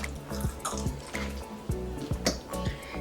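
Water gurgles and splashes in short, rhythmic bursts, like liquid poured or glugging from a bottle, close up and moderately loud with no voices.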